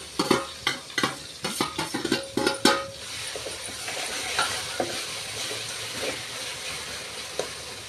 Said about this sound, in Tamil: இது வெங்காயம் நல்லா ப்ரௌன் ஆயிடுச்சு இப்போ நம்ம தக்காளி போட்டுருவோம்